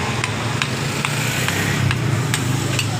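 A Toyota Supra engine runs with its cover open and knocks after starting. A light, regular ticking repeats roughly twice a second over a steady, close idle hum, with no talk.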